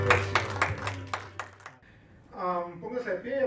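A church congregation claps in a burst of sharp, fairly close handclaps that stops abruptly after about two seconds, followed by a voice.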